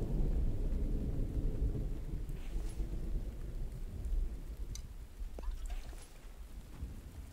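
Steady rain with low rumbling thunder fills the scene in the survival game The Infected, a continuous dense wash close around, with a few sharper crackles and drops breaking through near the end.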